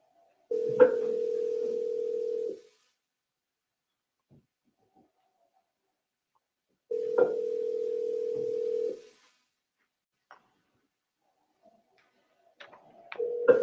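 Recorded phone call playing back: a steady ringback tone sounds twice in long bursts of about two seconds each, separated by silence, before the line connects to voicemail.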